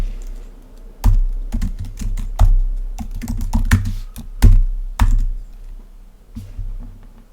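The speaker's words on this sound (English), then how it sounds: "type in the following" Close, loud typing on a computer keyboard while entering Swift code, with irregular bursts of sharp key clacks and thumps over several seconds, no voices.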